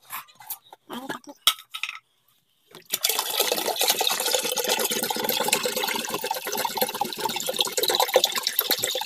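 Water gushes steadily into a plastic can after a few clattering handling knocks and a brief pause, a continuous loud splashing fill that keeps going to the end.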